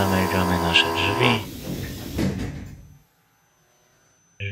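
An EN57 electric train's cab door shuts in the SimRail simulator on the Warszawa Wschodnia to Żyrardów route. A droning tone and rustle lead into the door closing, and then the sound goes quiet.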